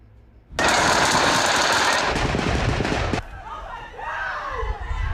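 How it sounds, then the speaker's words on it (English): A sustained barrage of rapid gunfire from a police standoff in Pelahatchie, Rankin County, rattles loud and dense for about two and a half seconds, then cuts off into quieter background noise with faint voices. "A barrage of bullets rang out"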